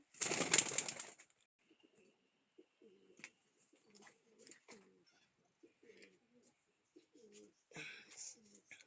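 Pigeons at a farm holding about thirty pairs coo softly in repeated low calls, with a brief loud rustle or flutter at the start and a clearer burst of cooing near the end.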